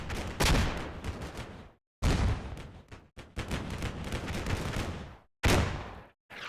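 Grenade explosions in the wargame Combat Mission Black Sea, several sharp loud blasts in separate bursts with brief silences between, each trailing into crackling debris and rumble.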